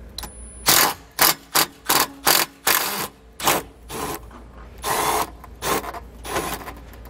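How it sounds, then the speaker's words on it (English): A Phillips bit on a power driver backing out a large screw from the end of a Lippert Solera awning support arm on a 2017 Forest River RV, in a dozen short whirring bursts separated by brief pauses. "We'll grab a Phillips screwdriver or a Phillips bit, and we're going to remove that large screw right there at the end of the arm."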